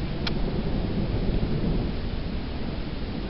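Continuous rain pours during a slow-moving thunderstorm in the Lehigh Valley, with a low rumble of thunder underneath and one brief sharp tick near the start.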